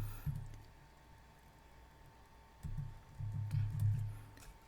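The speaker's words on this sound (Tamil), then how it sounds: "ஸோ இப்போ நான் என்னோட யூசர் ஐடியை நான் டைப் பண்ணுறேன்." Keys tapped on a computer keyboard while entering a user ID, quiet clusters of soft clicks in bursts near the start and end, close up with no talking.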